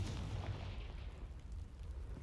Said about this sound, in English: Only one way to find out. Confringo!